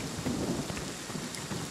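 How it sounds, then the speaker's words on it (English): Rain and thunder in the horror video game Friday the 13th: a dense, even hiss of falling rain with a low rumble of thunder underneath, heard alone and briefly. "Why is it raining?"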